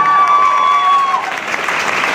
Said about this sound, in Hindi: एक बार तालियां हो जाए सभी लोगों वालों के लिए।